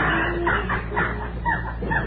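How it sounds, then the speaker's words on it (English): Clucking, squawking bird calls repeated in a steady rhythm over a dense, noisy background, sounding like a chicken-like fowl. "Here now is the sound of a rare bird."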